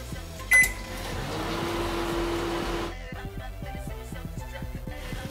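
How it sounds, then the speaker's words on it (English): A microwave oven heating mixed berries beeps once, then hums steadily while running for a minute, followed by a rhythmic clicking as the hum cuts off. "put them in the microwave"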